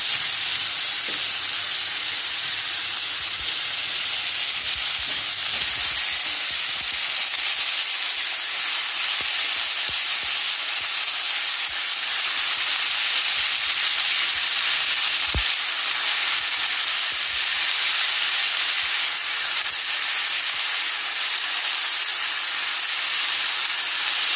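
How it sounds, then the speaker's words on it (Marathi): Pumpkin sabzi, cut with its skin left on, frying in a pan gives a steady, loud sizzle and hiss for the whole stretch, with a few faint stirring scrapes and no talking. "तर 2 मिनिटं छान असं फ्राय करायचं."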